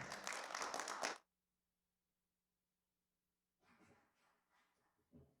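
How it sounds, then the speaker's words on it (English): An audience applauds a speaker at a talk, a brief burst of clapping that cuts off abruptly, followed by silence and then faint, softer clapping. "Let's give her a round of applause."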